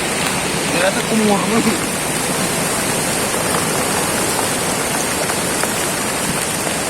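Flash-flood river rushing past a riverside campsite during heavy rain, a loud continuous broadband roar of water and downpour throughout, with a brief voice speaking near the start.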